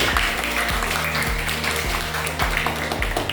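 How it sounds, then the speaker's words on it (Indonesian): Schoolchildren in a classroom clap together in a steady, rhythmic beat, each sharp clap repeating at an even pace over a dense, continuous wash of room noise. "Tepuk tangan untuk semuanya."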